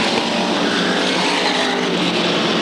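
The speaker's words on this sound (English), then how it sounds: "Rocco quickly out front, powers his way up into turn number 1 in front of the field" SK Modified race cars roar around Waterford Speedbowl in 1993, a loud, dense, continuous engine howl from the racing field with no break.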